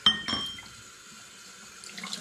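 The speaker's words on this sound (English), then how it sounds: "I just need to give them a rinse under the tap now to get any sticky off" Wine bottles rinsed under a kitchen tap, a couple of glass clinks at the start followed by quiet running water and light splashing close by.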